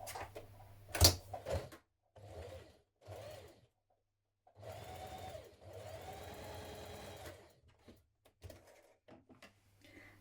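A sewing machine stitches the shoulder seams of a tunic with a 1.5 centimetre seam allowance, whirring in several short bursts and one longer run separated by quiet pauses, with a few handling clicks and bumps in between.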